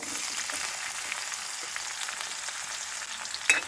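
Continuous sizzling of onions, mustard seeds and turmeric frying in a hot pan, even and close, with a small clink near the end.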